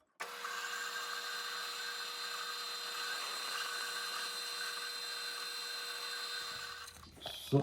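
A saw in a machine shop makes a flat cut into a flange for a small six-cycle engine's muffler, a steady high-pitched whine holding evenly for about seven seconds before cutting off, close and loud.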